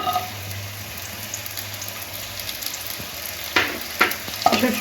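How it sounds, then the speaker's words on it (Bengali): Minced garlic frying in hot white oil in a wok for chicken Manchurian, a steady soft sizzle over a low hum, followed near the end by a few sharp louder scraping stirs close by. "তেলের মধ্যে দিয়ে দেবো রসুন কিমা।"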